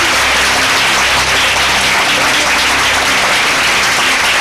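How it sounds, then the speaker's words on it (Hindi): A church congregation breaks into loud, sustained applause, dense close clapping that fills the room without pause and with no voices over it. "एक जोरदार ताली परमेश्वर के वचन के लिए बजाएंगे"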